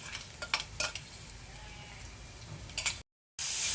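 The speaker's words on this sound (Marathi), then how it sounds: "आता हा मसालाही आपण थोडाफार भाजून घेणार आहोत।" Ground masala roasting with onion in a kadhai, with a spatula scraping and stirring in short irregular strokes over a faint sizzle. The sound is quiet and close, then cuts off abruptly near the end.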